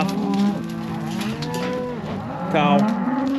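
Cattle bellow at a new calf-working facility, several overlapping moos from cows and calves close by, steady and loud, with a sharper, higher call breaking in near the end.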